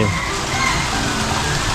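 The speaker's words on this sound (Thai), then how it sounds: "เราเจอน้ำตกมีน้ำตกด้วย" Constant splashing rush of a waterfall at a zoo in Sisaket, Thailand, loud and close, a dense even roar with no pauses.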